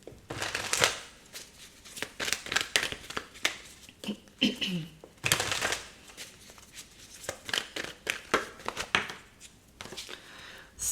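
A deck of tarot cards being shuffled by hand in a series of quick, crisp riffling and slapping bursts, close up, with soft voice sounds in the gaps between bursts.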